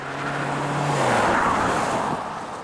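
A Hyundai Elantra GT drives by with a steady, loud blend of engine and road noise that holds for a few seconds and then eases slightly.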